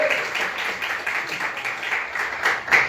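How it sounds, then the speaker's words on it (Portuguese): Congregation applause at a church's third-anniversary service, a steady patter of clapping filling the room at moderate loudness for the whole stretch, with no clear voices over it. "Dá uma salva de palmas para Jesus."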